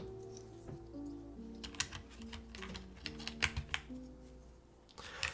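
Keys clatter on a Ducky OK-M series mechanical keyboard with swapped keycaps, a close run of quick, uneven clicks and clacks building into denser bursts over a low steady hum.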